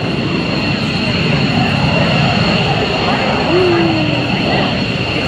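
A British-built airplane flies at the Dayton Air Show, a loud continuous engine roar and drone holding steady throughout, with a faint pitch sweep partway through and no distinct voices over it.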